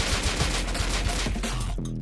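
AK rifle fire in the Rust video game, a rapid burst of automatic shots, loud and close, cutting off abruptly near the end.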